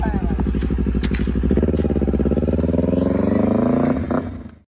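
A Kawasaki Ninja 250R with full fairing rides close by, a loud, even engine throb that climbs in pitch as it revs, then cuts off quickly at the end.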